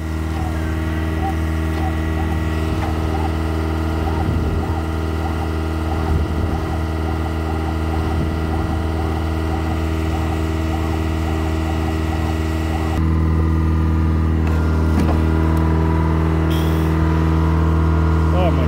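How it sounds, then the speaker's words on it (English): Chevrolet 6.5L truck engine droning steadily as it drives over harrows, with repeated low clanks and thumps under the engine hum and a shift in tone partway through. "Gotta drive over the harrows."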